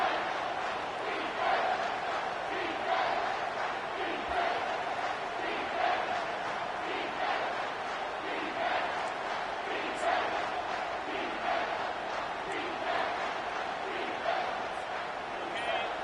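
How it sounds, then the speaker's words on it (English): A stadium crowd in the College Football 25 video game keeps up a steady, swelling roar throughout, with a commentator talking over it. "This crowd knows when to bring it."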